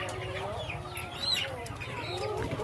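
Brooding hens on a farm in Bohol, Philippines, cluck steadily and close by, with a low, continuous murmur of farmyard noise and faint human voices in the background.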